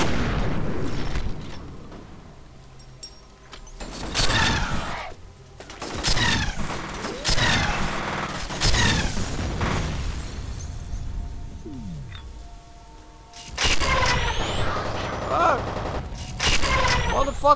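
Gunfire and rocket-launcher explosions in the shooter game F.E.A.R.: bursts of heavy booming blasts and rattling shots recur throughout, loud and close, with a voice audible at points.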